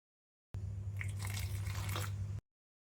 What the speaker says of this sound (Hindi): इस डो मेकर टूल के साथ अब आटा गूंदना भी हैसल फ्री है।